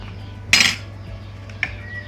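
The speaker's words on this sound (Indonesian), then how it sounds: "masukkan 5 sendok kecil sampel ke dalam gelas kecil." A small spoon taps against a small glass as spoonfuls of sample go in during a vitamin C nutrition lab test, with one sharp clink followed by a fainter second tap in a quiet room.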